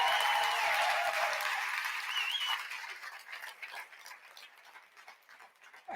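Audience applause at a 2019 keynote conference, a broad burst of clapping that starts full and gradually fades and thins out over several seconds.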